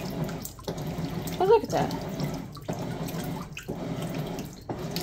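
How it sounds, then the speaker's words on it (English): Water runs into a Maytag washing machine as it fills, a steady splashing flow with short gaps, while a person talks over it. "I think it did put a little bit more water in it."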